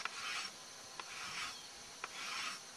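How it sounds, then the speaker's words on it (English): Rasp filing a horse hoof, faint rhythmic rough strokes repeating about every second, with light knocks between them, close up and without talk. "And then I rasp this way, but you keep your rasp flat to rasp onto the work"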